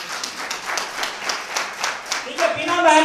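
Rhythmic hand clapping repeats about four times per second for a few seconds before a voice starts speaking.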